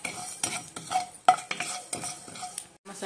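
Mustard seeds, fenugreek and spices are dry-roasted in a pan, with a utensil stirring and scraping in short, uneven strokes. A light sizzle sits under the stirring, close and quiet, with no talking.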